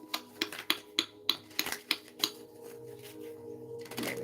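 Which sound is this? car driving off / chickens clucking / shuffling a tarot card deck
shuffling a tarot card deck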